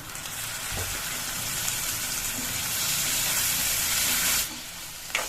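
Chopped curry leaves and tomatoes fry in a pan for a green gram gravy, a steady close sizzling hiss that swells and holds, then drops off near the end, with a light clink.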